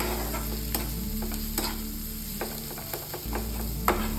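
Ginger, garlic and coconut masala sautéing in a pan for a Malvani gravy, with a steady close sizzle and intermittent scraping taps of a stirring spoon throughout.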